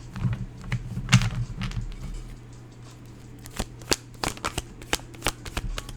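A deck of tarot cards is shuffled close by, with soft riffling bursts at first and then a string of crisp, irregular card slaps and taps, with no talking.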